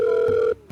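A telephone rings for a call-in question on a broadcast show, one short, steady electronic ring tone heard close and clear before it cuts off, followed by a brief soft noise.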